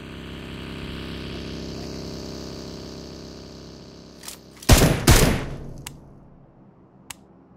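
Gunfire in a battle royale video game: two loud, close bursts of shots rise above a steady engine-like drone, followed by a few sharp, fainter isolated shots.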